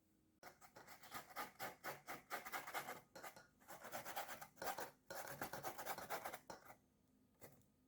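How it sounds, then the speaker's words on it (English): Cassava root being grated by hand on a grater: rapid, rhythmic rasping strokes, close and continuous with brief pauses between bursts, and no talking. "I'm about to grate this now"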